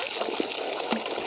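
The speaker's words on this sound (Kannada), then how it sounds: "ಹಿಂಗೆ ಬರುತ್ತೆ ನೀರು" Water flowing along an irrigation channel between farm fields, a steady close rushing gurgle with small splashes throughout.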